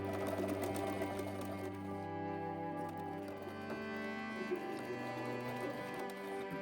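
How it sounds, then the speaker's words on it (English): A sewing machine runs steadily, basting a stitch along fabric a quarter inch from the edge while making a garment from a Simplicity S3094 pattern. The motor hum is loud, close and continuous, with no talk. "we're going to baste a stitch 1/4 of an inch all the way over"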